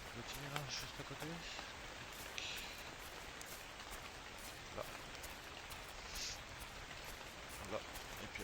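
Steady rainfall in the Kingdoms video game, a soft, even hiss of drops pattering throughout, faint and continuous, with someone briefly speaking over it.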